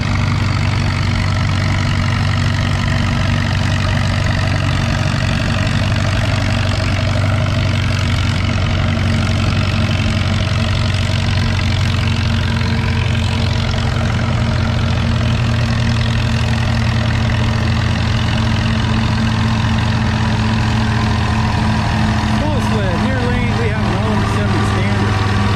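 A Massey 44 diesel tractor drags a 6,000-pound sled at a vintage tractor pull in Lynden, Washington; its loud, deep engine drones steadily and close throughout, with a rough rumbling beat.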